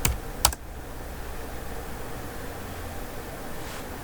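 Two quick keystrokes on a computer keyboard, sharp clicks right at the start, then a quiet steady hiss with no further typing.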